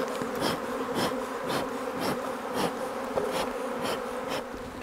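A honey bee swarm being smoked and coaxed toward a catch box gives off a dense, continuous buzzing, close and steady throughout, with individual bees whirring past in brief louder swells.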